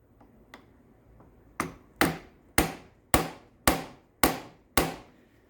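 Hammer tapping a screwdriver into a motorcycle brake screw head: two light taps, then seven sharp, evenly spaced metallic strikes, close and loud with quick decays.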